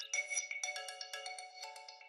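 A phone ringtone plays a bright, repeating electronic melody, clear and alone with no voices.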